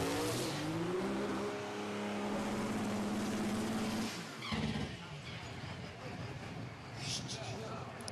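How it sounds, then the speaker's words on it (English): A Chevrolet diesel-powered drag racing car runs at a motorsports park, its engine droning loud and steady with a rising tone before a shift and continued roar, while a commentator talks over it. "this car makes a just tremendous amount of torque"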